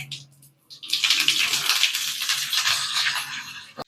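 Mustard seeds, urad dal and curry leaves splutter in hot oil with a loud, dense sizzle and crackle that bursts up after a brief pause and holds steady up close.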